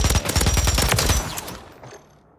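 Light machine gun in a video game firing a quick, loud automatic burst at a dummy, cutting off and leaving a short fading tail.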